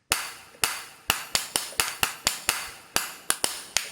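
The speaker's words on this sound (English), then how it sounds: "And some coconut shell kind of things." Hollow wooden clacks of coconut shell percussion, a dozen sharp knocks in an uneven rhythm, close and dry with no voices.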